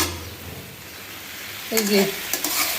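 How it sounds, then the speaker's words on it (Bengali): Bitter gourd (ucche) fries in a pan with a soft continuous sizzle, then louder stirring scrapes and crackles toward the end. A brief tonal sound rises and falls partway through. "উস্তা একটু কাঁচা কাঁচা করে উস্তাবাজি করতেছি"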